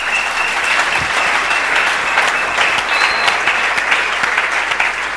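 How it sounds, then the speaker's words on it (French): A church congregation applauding the Lord, dense sustained clapping from a crowd filling the room loudly and evenly for several seconds. "Est-ce qu'on peut acclamer le Seigneur?"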